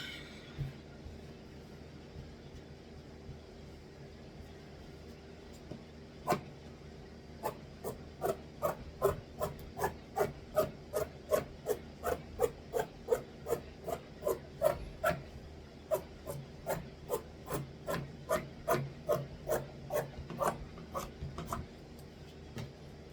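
Fabric shears snip along a fabric seam being trimmed, making a long run of crisp, regularly spaced cuts that are close and fairly quiet, with no talk.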